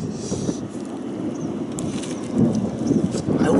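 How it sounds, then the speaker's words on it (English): A thunderstorm in Kentucky gives a steady low rumble of thunder with a hiss of rain, swelling louder toward the end with no voices over it. "Thunderstorms in Kentucky."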